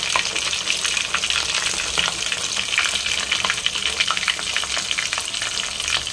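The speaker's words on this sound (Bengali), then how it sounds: "আলুগুলো দিয়ে দিলাম তেলের মধ্যে। এবার একটু লবণ, হলুদ আর একটু সামান্য লঙ্কা গুঁড়ো নেবো, দিয়ে ভেজে নেবো।" Potatoes fry in hot oil seasoned with salt, turmeric and chilli powder, giving a steady, close, dense sizzle with scattered crackles and pops throughout, no talking.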